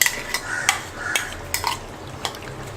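A spoon stirs ground coconut paste into a pot of chicken curry, giving repeated metallic scrapes and clinks against the pot at an irregular rhythm, close and clear over a faint low simmer, with no talking.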